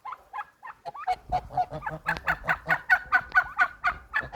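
An old gander honks over and over in quick, loud bursts, close by, the calls growing denser and more insistent toward the end.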